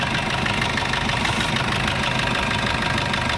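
A 2016 Maruti S-Cross car engine idles steadily, a continuous low rumble with a faint knocking texture, close by and unbroken throughout.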